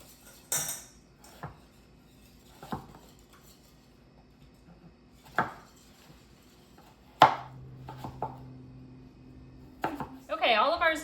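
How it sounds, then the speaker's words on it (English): Knife chopping zucchini into fry-shaped strips on a cutting board, a series of sharp, separate thunks spaced a second or two apart, close and clear, with light clatter of utensils toward the end. "And then we're gonna cut these into like little fries."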